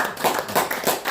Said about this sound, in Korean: 다시 한번 박수 좀 보내주세요.